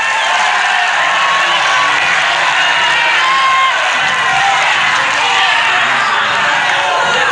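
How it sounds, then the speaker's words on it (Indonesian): Studio audience at a televised candidate debate for the 2017 West Sulawesi governor election in Jakarta, giving dense, steady crowd noise with cheering and clapping blended into a continuous roar throughout. "Kita berikan aplaus yang hangat untuk semua proses tadi"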